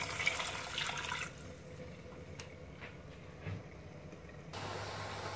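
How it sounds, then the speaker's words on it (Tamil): Water is poured from a cup into a cooking pot for a tomato and greens broth, a splashing rush at first that settles into quieter trickling and bubbling, with another brief pour near the end. "ஒரு கப்பு தண்ணி ஊற்றுறேன்."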